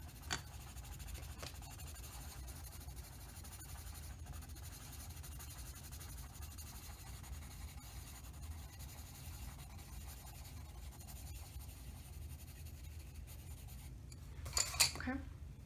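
Colored pencil scribbling back and forth on paper makes a faint, steady scratching that runs without pause through nearly the whole stretch, with a brief louder rustle near the end.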